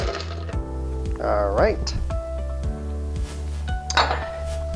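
Four cups of ice cubes tumble into a blender jar for a frozen lemonade slushie, a brief burst of clinking and rattling over background music, with someone speaking before it.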